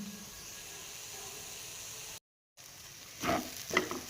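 Moong dal halwa roasts over low heat in a pan with a soft, steady sizzle, broken by a short gap and then a few scraping stirs near the end.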